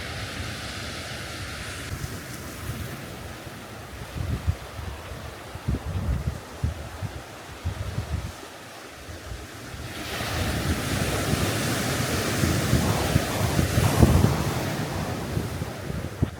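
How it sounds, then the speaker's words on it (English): Ocean waves crash continuously on a beach at San Simeon, California, a loud rolling surf wash that swells in the second half, with heavy wind buffeting the microphone throughout. "the crashing waves"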